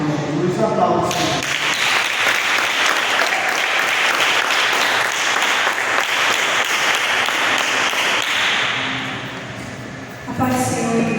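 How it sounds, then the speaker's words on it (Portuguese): A church congregation at an Assembly of God service gives long, loud, sustained applause that fills the hall for about ten seconds. Brief voices sound at the start and end. "Aplausos."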